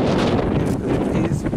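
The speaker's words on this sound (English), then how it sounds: "it is pretty windy." Strong wind blowing outdoors during a night dog walk, a loud continuous buffeting rumble over the microphone with brief talk mixed in.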